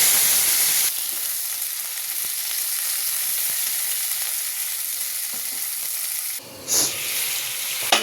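Cauliflower frying in hot oil with five-spice and a dried chilli after potatoes: a loud continuous sizzle that drops slightly after the first second, then a brief stir or clatter near the end, with no talking.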